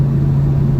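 A Chevy SS engine on a test drive holds a steady, loud low drone with a constant pitch and no clear rise in revs, filling the whole moment.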